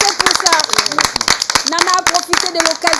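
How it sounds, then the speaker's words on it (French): Close, sharp hand claps from a small audience ring out in an uneven rhythm while voices talk and cheer over them. "Applaudissez pour ça."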